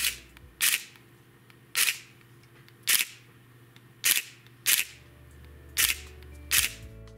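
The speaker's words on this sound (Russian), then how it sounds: "При нажатии кнопки спуска затвора, зеркало поднимается и опускается." A Nikon D90 DSLR being reassembled after repair fires its shutter about nine times in uneven succession, each release a sharp, close double clack of mirror flipping up and back down, over a faint steady hum.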